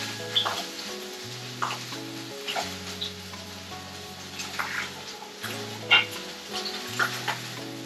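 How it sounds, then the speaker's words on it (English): Salmon fillet searing skin side down in a pan over medium-high heat, with a steady, moderate sizzle under background music and a few brief clinks. "We'll sear it just a little."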